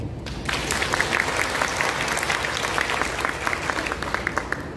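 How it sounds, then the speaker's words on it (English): Audience applause at a tourism sector address in Bohol, Philippines, steady and dense clapping from a large crowd lasting throughout after a brief quiet start, with no talking. "Clap if you agree."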